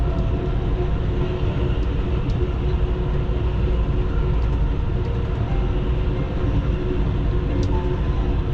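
Continuous low rumble heard aboard Amtrak's Texas Eagle rolling along rails in Texas, steady and loud throughout with faint high clicks, no voices.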